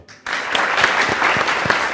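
A group bursts into applause after a brief quiet moment, sustained clapping from many hands, close and lively.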